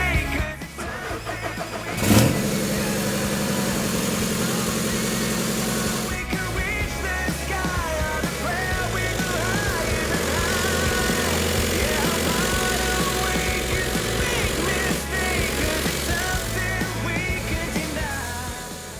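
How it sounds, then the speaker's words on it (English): A Seat Ibiza diesel engine, unstarted for over two years and with oil in the cylinder and a disconnected exhaust, cranks briefly, catches and then settles into a loud, steady idle close by. "time to start this car and see what happens"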